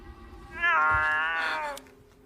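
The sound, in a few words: cat meowing over a telephone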